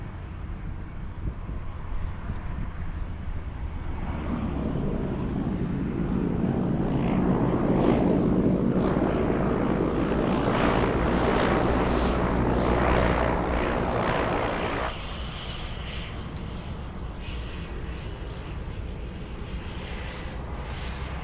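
A FedEx feeder cargo plane flying in, its engine drone swelling to a broad roar that holds steady, then drops to a lower steady hum for the rest of the stretch.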